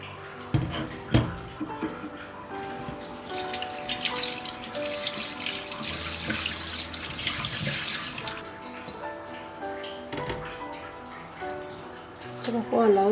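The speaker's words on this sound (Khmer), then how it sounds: "ខ្ញុំនឹងយកវាទៅលាងទឹក" Peeled ginger is washed under water running from a tap into a sink, a steady splashing stream lasting several seconds, with some speech around it.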